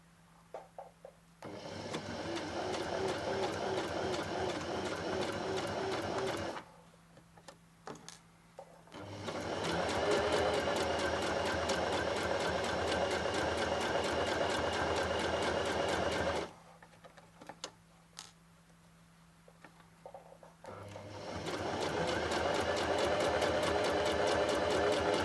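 A sewing machine with an invisible zipper foot stitches a zipper in three steady running bursts, a close, even mechanical whir broken by short pauses with faint handling clicks between them.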